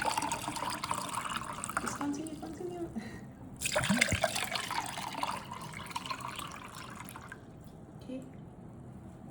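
Fresh cold coconut water pours from an opened Jamaican coconut, a continuous trickling splash with a brief louder gush midway, while people speak briefly nearby.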